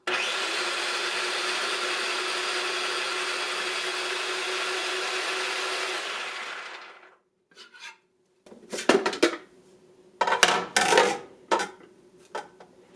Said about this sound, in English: Put the green fettuccine blade in. And I'll do the other half of the zucchini.